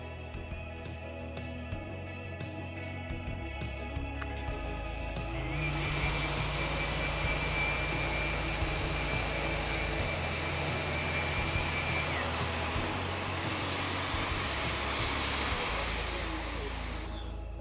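Festool edge sander running with a CTM MIDI dust extractor attached, a steady loud broadband whir and hiss that rises sharply after a few seconds and holds constant to the end, with no talking.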